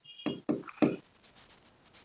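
A math problem being worked out on a board: three distinct, firm writing strokes in quick succession, followed by lighter, scattered scratches and taps, all quiet and close.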